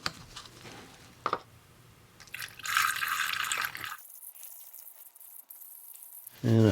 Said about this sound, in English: Now all we got to do is pour it in the radiator.